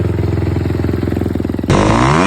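A motorcycle engine runs close and loud in a rapid, pulsing idle, then is revved sharply upward near the end. The bike is on an adventure ride with an off-road outing.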